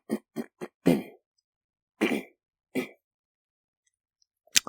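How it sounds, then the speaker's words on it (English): A man clears his throat in several short, dry bursts, a quick cluster of four followed by two more spaced rasps, close and fairly loud against a quiet room, with a faint click near the end. "Oh geez, I think I might have to clear it some more."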